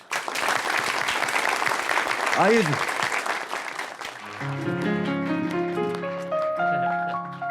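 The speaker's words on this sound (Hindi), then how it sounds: "आपकी जोरदार तालियों में" Dense audience applause at an Eid-ul-Adha special TV show greets a visiting poet for about four seconds, then gives way to music, with a brief spoken welcome over it.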